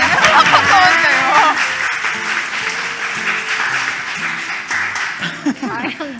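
An audience in a church's main sanctuary claps loudly and steadily while voices and laughter mix in over the applause.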